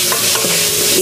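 Minced pork hitting a hot pan with a loud, continuous sizzle and a scrape of stirring, close up and without talk.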